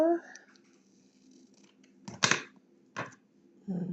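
Paper is cut with scissors in a few short, crisp snips spaced apart, close and fairly quiet, with faint room noise and no talking.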